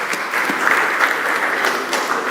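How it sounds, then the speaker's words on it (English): Loud, sustained applause from an audience at a mentorship session, dense continuous clapping filling the whole stretch with no talk over it. "Let's clap for him."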